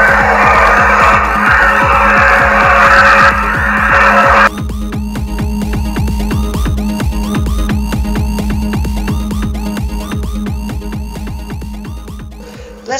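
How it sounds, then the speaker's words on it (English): Grotti Turismo-R, a 7.2 litre V12 supercar in GTA, engine throbbing with a fast, even pulse as it drives. A loud broadband rush over the first few seconds cuts off, leaving the engine note to carry on alone. "This is a Grotti Turismo-R, an evolution of the Grotti Turismo from GTA 4"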